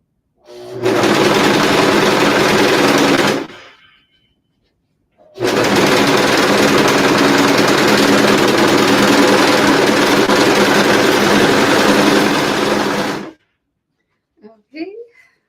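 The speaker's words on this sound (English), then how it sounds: "I'm gonna just lift up the presser foot, slide my fabric under, and start sewing." A serger sewing machine stitches fabric in two loud, steady bursts of rapid mechanical whirring, about three seconds and then eight seconds long, separated by a pause, followed by a few faint handling clicks.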